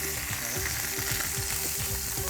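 Chopped onions sizzle in hot coconut oil with curry leaves, a dense close-up crackling hiss that stays loud and steady while faint rhythmic stirring knocks pulse underneath.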